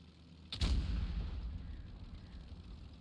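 A tank gun fires once in a tank battle video game. The single loud, booming shot has a heavy low rumble that trails off slowly into a sustained background.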